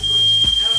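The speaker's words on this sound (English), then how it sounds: "Smoke detector." A smoke detector emits a steady high-pitched electronic tone that runs continuously through the moment, with a voice speaking briefly underneath.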